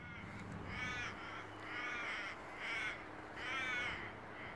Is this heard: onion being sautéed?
no